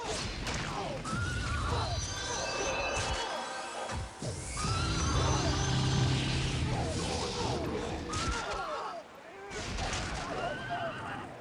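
A horse whinnies repeatedly in the Dark Age of Camelot online game, ridden by a unicorn knight, with loud, dense battle clashes, hoofbeats and game noise throughout.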